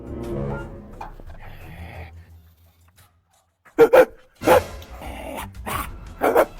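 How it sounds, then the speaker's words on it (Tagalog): Dog barking in a home setting, with several loud, sharp barks in quick bursts near the end, heard after a stretch of talking. "Ano ba naman tong asong to?"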